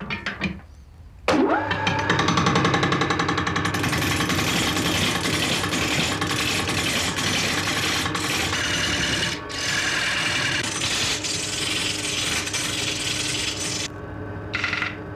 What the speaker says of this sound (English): The tool rest of the lathe has been specifically adapted for turning wheels.